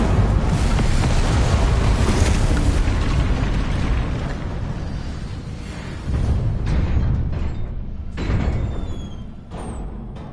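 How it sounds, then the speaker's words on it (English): Incendio fire spell cast in Hogwarts Legacy: a loud roaring blast of flame with rumbling bursts that tapers, swells again and fades, dense and close. "Incendio."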